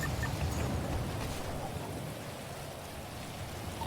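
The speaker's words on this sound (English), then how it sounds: "I hate this fucking rain." Steady rain falls in the video game GTA V during NoPixel roleplay, a dense, even hiss of drops on surfaces that holds at moderate level throughout with no voices.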